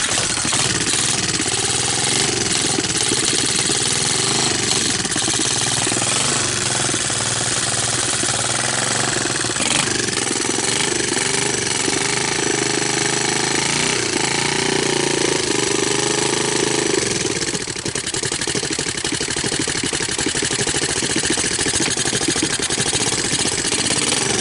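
A Honda TRX200SX ATV engine runs loud and close throughout, a rough, chattering mid-pitched idle with uneven pulses and slight shifts in tone over about twenty-five seconds, with no voices.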